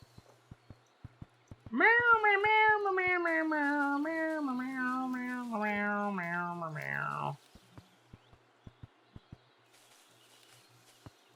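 A cat in the video game Kentucky Route Zero gives one long, drawn-out meow rising and wavering for several seconds, loud and close, set against sparse faint clicks.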